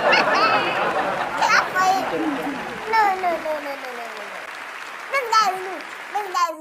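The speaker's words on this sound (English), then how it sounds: "Clap for him." A lively group claps and cheers for a young singer, children's excited voices and chatter mixing with the applause close by.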